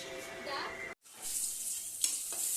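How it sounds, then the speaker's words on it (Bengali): Dried red chillies and mustard seeds hissing in hot oil as a tempering for sour dal cooked with mango, a bright loud sizzle broken by a brief cut, then resuming with a sharp pop. "শুকনো লঙ্কা আর সর্ষে ফোড়ন দিয়ে টক ডাল করে নিলাম"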